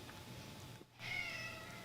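A single cat meows once, mid-loud and close, over a steady low room hum, with no talking.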